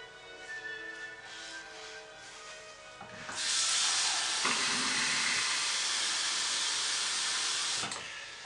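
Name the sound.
stick blender running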